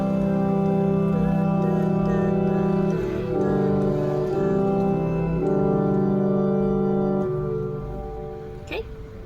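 Sustained hymn chords from a keyboard ring out in a slow progression, each held chord changing to the next several times before fading at the end.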